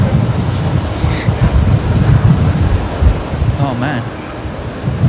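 Strong wind buffets the microphone outdoors at Brisbane Airport during rain, giving a loud, rough, gusting rumble throughout, while someone speaks briefly under it.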